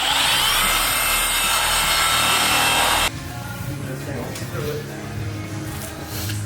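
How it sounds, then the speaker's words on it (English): Power buffer polishing the paintwork of a Ford F-250 truck, a loud steady whirring drone that drops to a lower, rougher hum partway through, with a voice talking over it. "So basically buffing different parts at different times and polishing different parts at different times"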